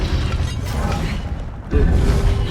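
An Incendio fire spell goes off in Hogwarts Legacy, a sudden burst with a crackling, shattering edge and a steady ringing hum that lingers under continuous game sound after a busy lead-in.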